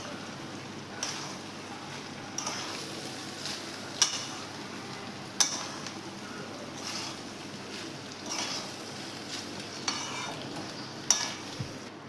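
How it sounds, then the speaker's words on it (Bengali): Leftover rice stirred and fried in a pan, a soft continuous sizzle with a spatula scraping and clinking against the pan at irregular intervals, fairly quiet and with no talking. "সব একসঙ্গে ভালো করে আমি মিশিয়ে নেব"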